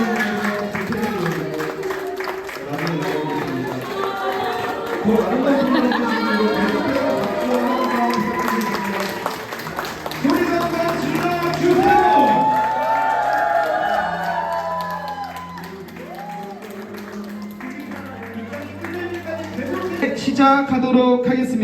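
Wedding guests applaud and cheer as the bride makes her entrance, a steady crowd of clapping and whoops carried over music, with voices mixed into the noise throughout.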